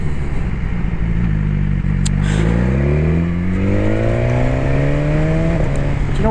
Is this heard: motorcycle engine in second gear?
yes